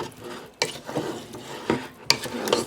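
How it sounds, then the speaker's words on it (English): Sauteed meat and broccoli are stirred in a pan, giving a few close, sharp scraping and clattering strokes against the pan over a low background. "Stir"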